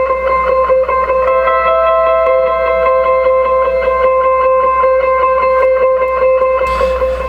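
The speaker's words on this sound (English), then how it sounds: "And then you have the second guitar track," A second guitar track drenched in effects, distortion and reverb plays a steady looping melody with sustained ringing tones, loud and continuous throughout.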